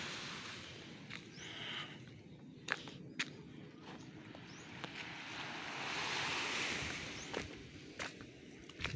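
High-tide ocean waves wash onto a beach in the early morning, a faint surging hiss that swells and recedes, with scattered nearby clicks and taps.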